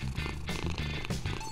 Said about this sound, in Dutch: Zeker niet als er een kat in huis is.